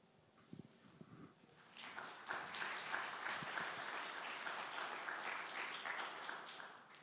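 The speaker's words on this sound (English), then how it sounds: "Well-deserved applause." Audience applause at a fireside chat during an India education summit, a few scattered claps at first, then swelling into steady sustained clapping that holds to the end.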